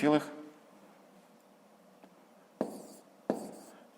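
Pen writing numbers on paper during a fifth-grade math subtraction exercise: a brief scratch near the start, then two short, distinct strokes later, close and quiet over faint background.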